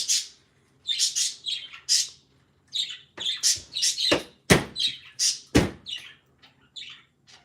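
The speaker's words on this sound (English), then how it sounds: "That is my birds in the background anyways." Small pet birds chirp and tweet close by in quick bursts, bright and repeated, with a few sharper squawks mixed in and no talking.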